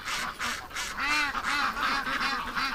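Ducks quack repeatedly in a lively, fairly close chorus, with overlapping calls in quick succession and a honking, goose-like quality.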